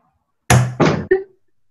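A door slams shut up close with a loud heavy thud, followed at once by a second bang and a short rattling knock as it settles.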